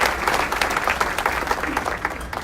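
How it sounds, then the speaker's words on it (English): A room full of people at a community breakfast applauds, a lively, dense clapping crowd close by and fairly loud, with a few voices mixed faintly into the clatter. "If Linda is here, let's give her a round of applause."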